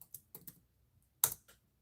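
Typing on a computer keyboard during a live chat session, a few sparse clicking keystrokes in small bursts, close and fairly quiet, with no talk.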